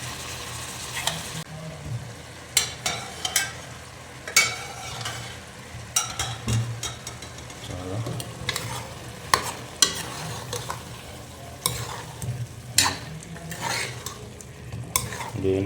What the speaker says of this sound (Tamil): இந்த எண்ணெயில் நல்லா ஒரு 5 நிமிஷம் 10 நிமிஷம் எண்ணெயில் அப்படியே பிடிக்கிட்டோம்.